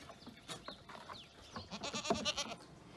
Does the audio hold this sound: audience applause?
no